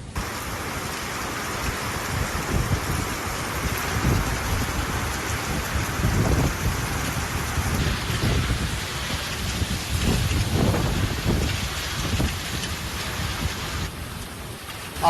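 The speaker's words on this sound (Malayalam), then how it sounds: "ഖത്തറിലെ വിവിധ കേന്ദ്രങ്ങളിൽ ഇടിയോടുകൂടി മഴ തുടങ്ങിയത്" Heavy rain pours steadily in Qatar, with low thunder rumbling through the downpour; the wash of rain stays loud and unbroken throughout, no voices heard.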